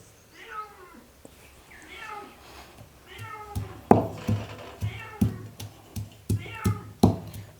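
A cat meows repeatedly in a Konkan village kitchen where Bombay duck thecha is being made, a series of drawn-out cries, mixed with sharp knocking or tapping sounds and brief voices.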